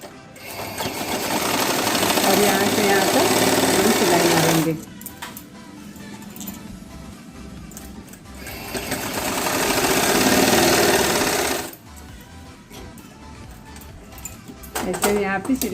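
A sewing machine stitches darts on a blouse, whirring loudly and steadily in three separate runs with quieter pauses between them, and a voice talks in the gaps.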